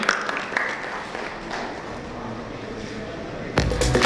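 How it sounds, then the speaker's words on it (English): Audience applause for a panelist at a panel session on digital frauds and data analytics, a steady wash of clapping from a seated crowd that swells louder near the end. "A big round of applause, ladies and gentlemen"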